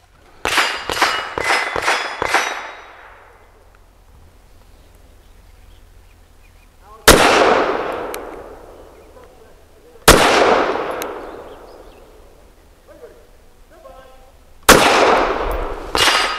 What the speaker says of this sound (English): Man, this gun is so easy to shoot. You get a lot of percussion, but it's just fireball and noise